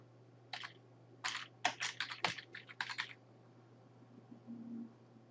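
Clicky bursts of computer keyboard typing, several quick runs of keystrokes close up and fairly quiet over a steady low hum, then a pause.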